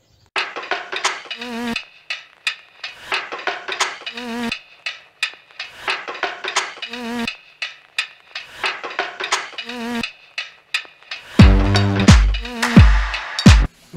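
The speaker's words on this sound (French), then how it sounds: "donc le gravage d'une ruche en accéléré." A laser engraver works over a wooden beehive, played sped up, giving a rapid string of buzzing, clicking bursts with short pauses between them and a denser rattling stretch near the end.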